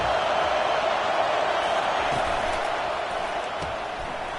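A packed college football stadium crowd roaring on a big third down, with a dense, loud, sustained wall of noise that holds steady throughout.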